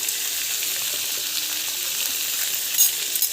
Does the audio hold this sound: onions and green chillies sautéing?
yes